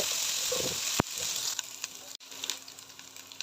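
Crushed ginger-garlic paste hits hot oil with a steady close sizzle, broken by a sharp clatter or tap near one second and a few smaller utensil knocks as it fries.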